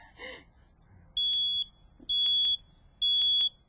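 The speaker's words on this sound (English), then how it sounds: "You can test your smoke detector, and we recommend you test them monthly by just simply depressing this button." A household smoke detector sounds in three loud, piercing bursts of about half a second each while its test button is pressed, with a short murmur of voices just before the first burst.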